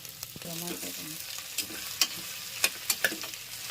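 Bottle gourd pieces tossed into a frying pan with garlic, giving a soft sizzle with scraping stirs and a few sharp clicks of a spatula against the pan, close and moderately quiet.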